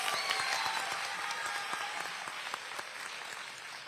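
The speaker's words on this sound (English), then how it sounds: "Let's give a round of applause to all of our contestants." An audience at a student math bee applauds the contestants, a fairly quiet but continuous patter of many hands clapping that slowly tapers off.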